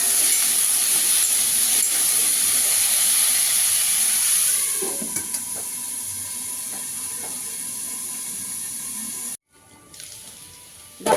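Potato and taro stolons frying with salt and turmeric. A loud, steady hiss runs for several seconds, then drops to a softer simmer with faint clinks, and there is a brief silent gap near the end.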